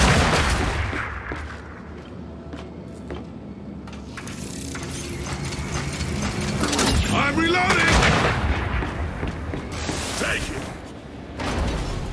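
Sniper rifle gunfire in the video game Gears 5, a dense stretch of game combat with sharp shots and mechanical clatter over a busy soundtrack, with a voice talking over it.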